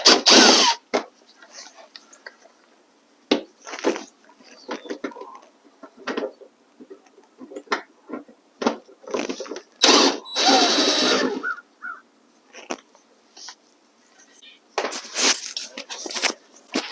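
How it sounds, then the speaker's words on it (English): DeWalt drill with a Phillips bit backing screws out of a 2022–2023 Honda Civic headlight area: loud, close bursts of whirring interspersed with clicks and handling noise, with short pauses between runs. "I'm using a bit and a DeWalt here"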